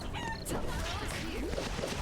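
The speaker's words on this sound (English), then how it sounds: "Chickens are in the way." Chickens clucking and squawking in the video game Eternal Return, a few short fowl calls mixed into busy in-game action noise with muffled talk over them.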